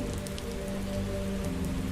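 Steady rain patters on a surface as a continuous, even wash in a dramatized fantasy audiobook scene of a torrential downpour, with no voice over it.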